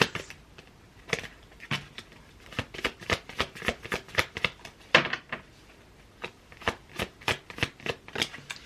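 Tarot cards are shuffled in a rapid series of crisp riffling bursts, close and fairly loud, repeating with a brief pause partway through before the quick papery flutters resume.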